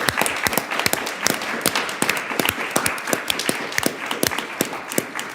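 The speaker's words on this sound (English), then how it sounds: "join me, everyone, in giving her a most deserving round of applause" Round of applause at a congressional hearing, a small group clapping with sharp distinct claps in an uneven rhythm, fairly near, no talk over it.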